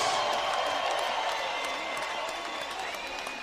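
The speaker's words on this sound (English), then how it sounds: "let's have a round of applause for these two welterweight warriors" A crowd at a welterweight boxing match applauds and cheers steadily at ringside, a dense, sustained wash of clapping and voices that stays loud throughout.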